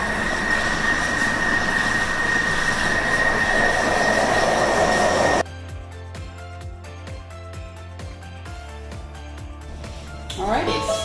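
A very full countertop blender whirs at its top speed, blending vegan broccoli cheese soup with a loud, steady roar, then abruptly stops, leaving quieter room noise and light clicks.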